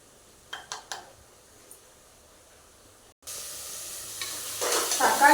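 Tomatoes frying in a pan with turmeric, a few soft stirring clacks over quiet sizzling, then after a brief cut a loud, steady hiss that swells toward the end.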